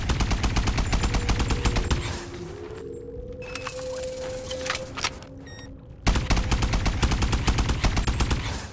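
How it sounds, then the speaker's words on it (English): Rapid bursts of automatic fire from the AE4 energy rifle in the VR shooter Bonelab, a fast rhythmic volley of laser bolts, then a pause with a rising electronic whine, then another sustained burst. "it uses a battery. And it fires bolts of energy as lasers."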